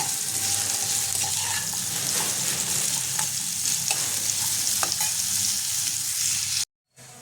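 Vegetables frying in oil for a Bengali sorshe posto chachari, a steady, loud sizzle with faint stirring scrapes that runs without pause before cutting off abruptly near the end.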